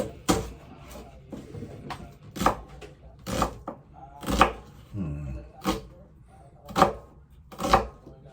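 Onion chopped with a knife on a cutting board, a series of irregular, close knocks against the board that are fairly quiet and come with small pauses between them.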